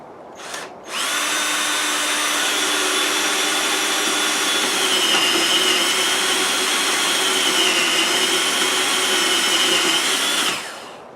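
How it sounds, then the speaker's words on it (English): A power drill whines continuously at high speed for about ten seconds, boring a hole through wood, starting abruptly after a short blip and cutting off at the end. "drill a hole through the wood"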